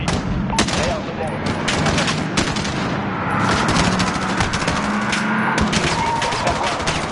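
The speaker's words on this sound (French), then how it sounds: "Il tire." Video game gunfire keeps up a loud, dense stream of automatic bursts while vehicles are targeted on a road, and French-speaking voices talk over it.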